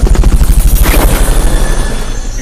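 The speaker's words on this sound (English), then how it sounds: "Onboard helicopter." Onboard helicopter in Metal Gear Solid Peace Walker, a loud close rotor thumping in a steady rapid rhythm with engine roar, fading slightly toward the end.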